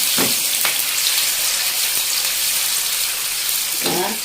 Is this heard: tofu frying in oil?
yes